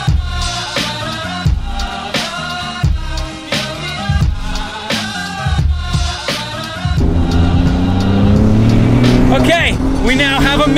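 A car engine with a manual gearbox revs hard at the Mille Miglia, its pitch climbing and dropping through gear changes, loud and close, with voices over the first half.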